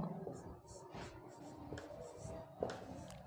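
Someone writes on a board during a trigonometry class lesson, soft scratchy strokes coming in short, faint bursts against a quiet room.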